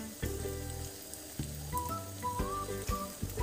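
Pumpkin frying in a little oil in a pan, sizzling steadily while a utensil scrapes and stirs in short bursts, with faint music in the background.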